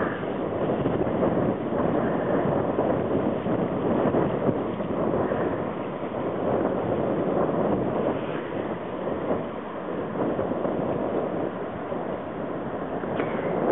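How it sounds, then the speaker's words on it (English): Steady wind buffets the microphone out on open water at Coos Bay, Oregon, with a constant rushing roar and the wash of waves underneath. "It's getting pretty windy and chilly out here."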